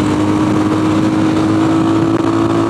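A Tekken 250 motorcycle engine drones steadily at high revs while riding a curvy mountain road in Oaxaca, with constant wind rush and no break in the sound.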